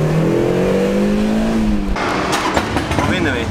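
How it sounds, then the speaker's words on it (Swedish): A car engine is revved hard under acceleration at a motocross-style competition, droning and climbing in pitch up close before cutting off, with voices talking over it. "hör du hur mycket bilen låter när man gasar, men den har inget jävla tryck"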